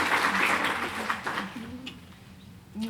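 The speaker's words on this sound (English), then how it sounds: "Another round of applause, please." An audience at a conference event applauds loudly at first, then the clapping fades and thins out over a few seconds, with some voices mixed in.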